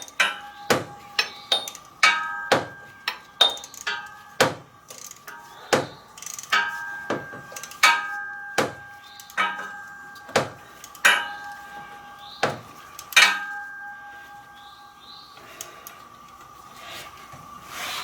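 Wrench working a bolt during a steering pump replacement produces a run of sharp metallic clicks and clanks with ringing overtones, repeated at an uneven rhythm, close and fairly quiet.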